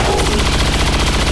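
Conventional-round gunfire in the video game XCOM, a loud, dense rattle of rapid shots filling the whole moment without pause.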